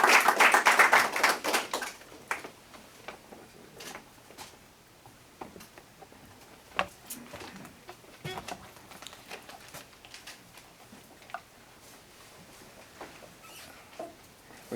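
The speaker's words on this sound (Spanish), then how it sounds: "yo les pido un aplauso para el embajador Diego Arias" Audience applause for Ambassador Diego Arias at a conference, a dense burst of clapping in the first two seconds that quickly thins into scattered, sparse claps and taps.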